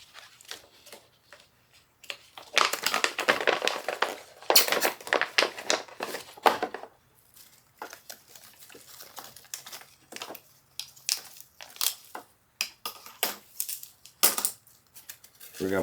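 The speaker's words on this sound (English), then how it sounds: "I'm just crumbling it up a little bit as it go in just to make it shut up easier" Freeze-dried Mexican beef and corn chili crumbled by hand into pouches, giving irregular bursts of dry crinkling and crunching with short quiet gaps, close up and fairly loud.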